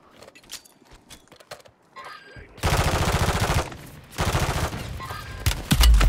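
Gunfire in the Call of Duty Warzone video game: quiet scattered shots at first, then two loud, dense bursts of rapid automatic fire with a short pause between them.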